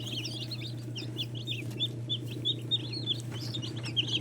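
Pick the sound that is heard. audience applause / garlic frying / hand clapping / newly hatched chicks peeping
newly hatched chicks peeping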